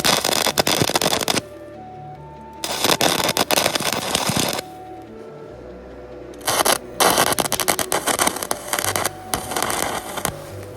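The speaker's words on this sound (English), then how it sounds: "I'm just gonna weld the bottom because right now they can all slide around" Welding the bottom of a forged steel rose, with loud crackling, spitting bursts of arc in several separate runs of a couple of seconds each, broken by quieter gaps with faint workshop hum.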